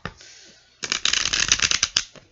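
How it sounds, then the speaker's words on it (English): Tarot cards being shuffled up close: a brief hiss first, then a loud, dense burst of rapid riffling flutters lasting over a second, ending in a few sharp slaps. "I'm going to shuffle until the cards don't want to shuffle anymore"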